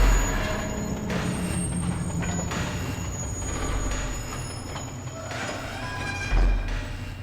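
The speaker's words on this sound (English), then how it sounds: "we had to power that up just to move that tram there" A tram in the game Alien: Isolation rumbles and hisses as it moves, with low mechanical groaning, airy brake-like releases and a heavier thud near the end, heard alone at moderate volume.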